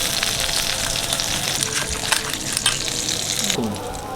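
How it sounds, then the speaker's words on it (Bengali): Katla fish fries in oil with a continuous close sizzle and crackle, broken by a brief clatter and scrape near the end, no talk. "মাছ ভাজা হয়ে গেছে"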